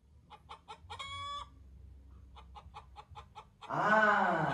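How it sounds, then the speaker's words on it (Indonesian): A chicken clucks in short repeated bursts, nearby and clear, ending with a louder drawn-out squawk. "Tiba-tiba ayam masuk dan bersuara."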